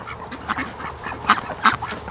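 Ducks quack in short, loud, uneven bursts as a flock rushes home to their pen and shed on a farm, close by with no talking.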